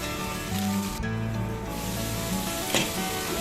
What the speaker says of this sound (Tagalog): Para magigisa ng igi ang ating hipon.